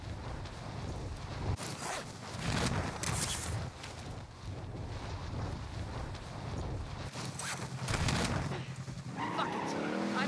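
A car driven in the video game Call of Duty Warzone, with engine drone, tire squeals and skids, and bursts of crashing and game effects, mixed with voices talking throughout.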